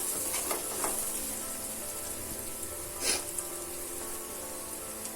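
Bread masala sautés with spices in a pan, a quiet steady sizzle with a few faint stirring scrapes and one brief louder hiss.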